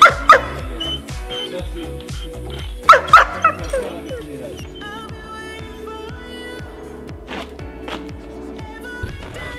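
Dog barking in short yips and bow-wows near the microphone, then trailing into whimpers, with faint voices underneath.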